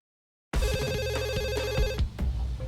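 A telephone rings in a TV reality show, its bright electronic bell warbling steadily for about a second and a half after a silent start, then breaking off into faint room noise.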